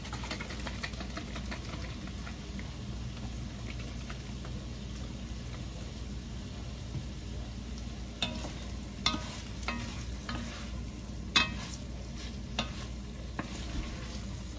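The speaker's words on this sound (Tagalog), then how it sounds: "Tapos next natin yung lagyan natin ng chicken broth." Chicken soup cooking in a pot, with a steady low simmering rumble throughout and a few brief clinks and splashes later on as chicken broth is poured in and stirred.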